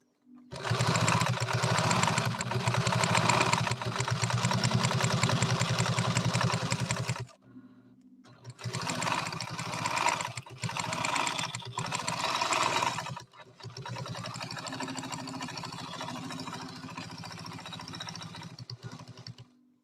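An Adler 189A industrial sewing machine stitches leather in loud, steady motor-driven bursts: a long continuous run, a brief pause, a second run, then a lighter, quieter stretch of sewing.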